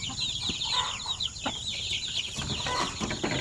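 Chickens and chicks on a poultry farm during the rainy season fill the air with continuous high peeping and scattered clucks, a dense, steady flock chorus heard close by.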